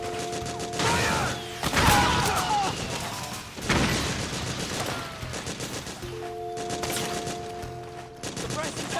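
Suppressing gunfire in the video game Metal Gear Solid 4, dense bursts of rapid shots and crashing impacts that swell and fade in waves over several seconds, loud and close, with shouting voices in the mix.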